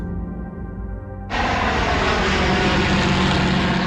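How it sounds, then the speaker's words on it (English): Engines of a de Havilland Mosquito bomber, a steady loud drone of piston aero engines that cuts in abruptly after a quieter hum and holds at full strength. "The famous de Havilland Mosquito."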